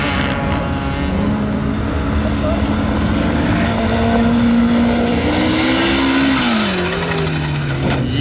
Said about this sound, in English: Basically a sand car.